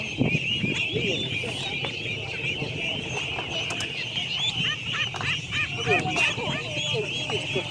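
Wild ducks from a large flock quacking and honking continuously in the open, layered calls near and far under chatter from people talking nearby.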